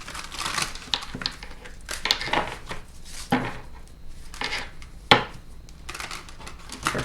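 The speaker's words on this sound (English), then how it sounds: "I'm going to shuffle these for you." Tarot cards being shuffled and riffled close by, a run of crisp papery flutters and soft taps with no talking.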